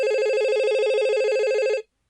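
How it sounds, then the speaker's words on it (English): A telephone rings in one steady warbling electronic burst lasting nearly two seconds, loud and clear, then cuts off abruptly into silence. "One morning last summer, Al called his office at 9 o'clock"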